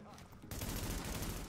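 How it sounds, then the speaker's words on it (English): Gunfire bursts erupt in the shooter video game The Division, a rapid loud fusillade that starts abruptly after a brief quieter moment and continues densely to the end. "The gunfire, I'm not too enthused about."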